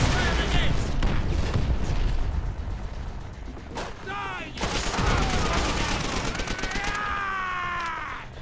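Rapid gunfire bursts in Call of Duty: World at War, dense crackling volleys up front, a sharp shot near the middle, then more firing with whistling mechanical tones toward the end.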